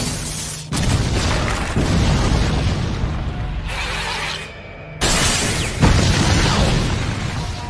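A cartoon explosion sound effect in a Gacha Club animation, a loud booming blast followed by a sustained crackling roar, then a brief quieter gap and a second heavy burst that rumbles on.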